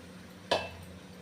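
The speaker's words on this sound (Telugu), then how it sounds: "ఈ రైస్ నేను డైరెక్ట్ అందులో వేసేస్తున్నాను ఒక సెవెంటీ పర్సెంట్ ఉడికింది" Partly cooked rice goes into a cooking pot for aloo dum biryani. A single sharp metallic clink rings out and then fades against a quiet kitchen background.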